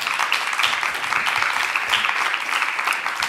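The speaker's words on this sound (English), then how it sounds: "Really like to a round of applause." Audience applause after a question session at a New Media Gallery event, a dense, steady wash of many hands clapping at close range, sustained at even loudness throughout with no talk over it.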